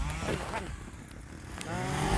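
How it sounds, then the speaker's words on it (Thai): An engine, most likely a chainsaw, revs during contract pruning of apple branches in an Israeli orchard, a buzzing whine that rises at the end under nearby talk. "เปิดละเร่งเครื่องครับกันสองเครื่อง"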